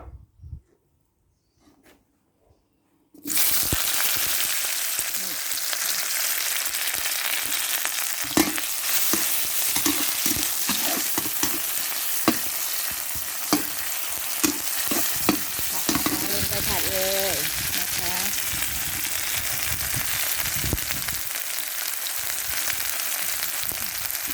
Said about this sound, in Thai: เครื่องต้มยำลงไปผัดกับน้ำมันให้ให้หอมนะคะ